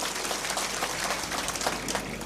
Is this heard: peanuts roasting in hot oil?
no